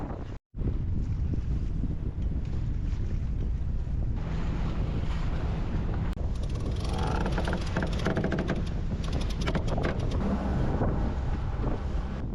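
Strong headwind of about 20 knots roars across the microphone aboard a sailing boat with a reefed mainsail off Scotland, a loud, steady blast of buffeting that continues with no voices.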